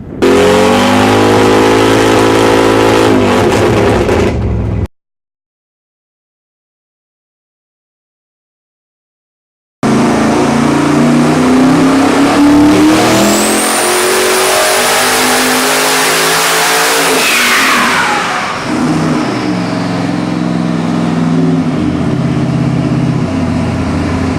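A Nelson Racing Warrior 632 big-block crate engine running on 91-octane pump gas, rated 837 horsepower, revs loudly and close by in two bursts split by a sudden silence, the second climbing to a high scream before dropping back.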